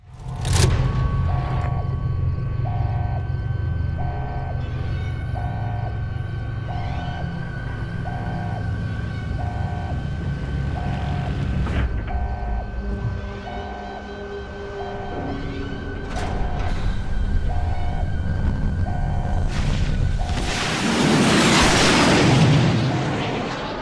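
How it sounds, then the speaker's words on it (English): Rocket launch in the video game Fallout: New Vegas: sustained rumbling and booming under steady, triumphant music, building to a loud broadband roaring blast near the end. "you also get this triumphant slow motion rocket launch while some classic rocket music plays in the background"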